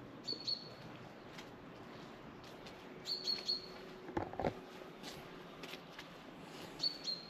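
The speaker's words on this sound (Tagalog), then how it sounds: "Ang ingay ng mga ibon." Small birds chirp and tweet in short, scattered bursts at a distance over a quiet outdoor background.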